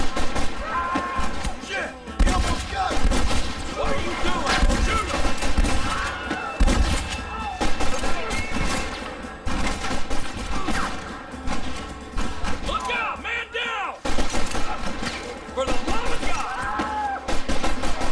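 Gunfire rattles through a Red Dead Redemption shootout, dense bursts and thuds running almost continuously at close range, mixed with shouting voices and game score.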